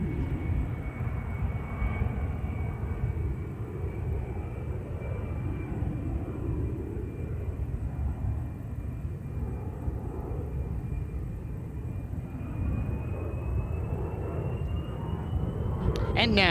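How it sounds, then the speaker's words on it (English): Inside the cockpit of an A-10 Warthog jet at the NAS Oceana air show, a loud, steady engine roar with a rising whine, and an announcer talking over it. "Major Wilton is now positioned in the A-10 for a pass down the show line"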